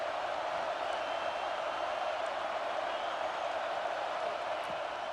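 Stadium crowd in EA Sports College Football 26, a dense continuous roar of many voices holding steady and loud throughout, with no distinct breaks or peaks.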